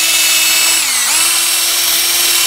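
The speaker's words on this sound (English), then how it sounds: "So what I did was chuck it into my 3/8 inch drill driver" A 3/8 inch drill driver spinning a wooden dowel for sanding, a loud close continuous whine with a brief dip in pitch as it loads, then recovering.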